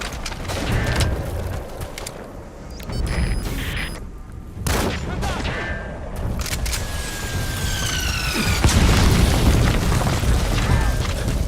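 Gunfire and explosions in the video game Metal Gear Solid V: The Phantom Pain, dense bursts of shots and booming blasts overlapping in a loud, continuous barrage.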